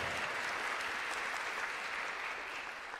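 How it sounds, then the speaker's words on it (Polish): Concert audience at a Ukrainian Days festival in Warsaw applauding: a thick, continuous roar of clapping from a large crowd, easing slightly toward the end. "to brawa dla miasta"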